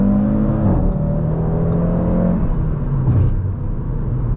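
A 2024 Audi RS3 accelerates from inside the cabin, its engine note rising steadily and loud through the gears with a whirring drone and a brief shift midway.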